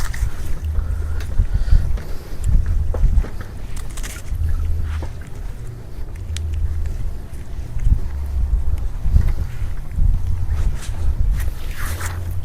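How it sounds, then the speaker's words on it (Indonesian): Strong wind gusting over open water beside a small fishing boat at Rowosari, steady low rumbling buffeting of the microphone with faint knocks and splashes throughout. "anginnya jadi agak kencang sekarang"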